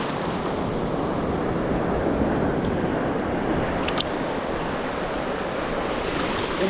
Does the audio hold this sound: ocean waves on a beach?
yes